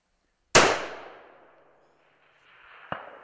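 A custom Rocky Mountain Rifle is fired at a steel target about 600 yards away. One loud, sharp crack fades slowly, then a faint, short second report follows roughly two and a half seconds later.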